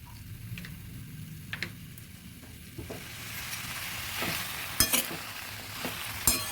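About a kilo of tomatoes with salt cooking in a pan: a low sizzle builds as a spoon stirs, with a few sharp scrapes and clacks against the pan. The sounds are fairly quiet and nearby.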